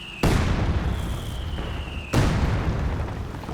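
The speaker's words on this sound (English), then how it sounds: "damage from those heavy mortar hits though" Heavy mortar shells hitting in the video game Company of Heroes 2, two loud booming impacts about two seconds apart, each followed by rumbling debris over ongoing battle noise.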